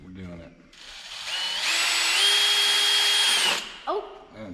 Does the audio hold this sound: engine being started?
no